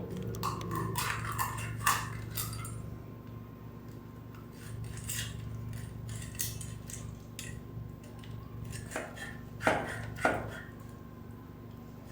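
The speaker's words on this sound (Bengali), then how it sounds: "আর মাছের মাথাটা কেটে নিলে মাছটা কাটতে অনেকটাই সহজ হয়" A whole rupchanda (pomfret) of about 1.5 kg being cut with a knife, a series of faint scraping and slicing strokes, with a few sharper chopping thuds near the start and end, close and quiet, no voices.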